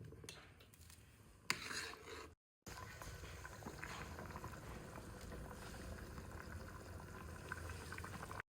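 Tempered water for spiced masala rice coming to a boil in a cooking pot, a faint, steady bubbling and simmering hiss that drops out briefly partway and then continues evenly.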